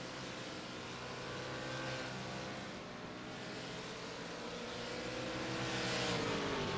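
GT race cars circling a virtual Thompson Speedway in a sim racing game, a steady layered engine drone with rising revs from several cars, continuous and moderately loud with no talk.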